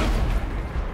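A mortar strike explodes in the Call of Duty Modern Warfare 3 campaign as a continuous heavy low rumble. It stays loud and dense for the whole second with no clear gaps.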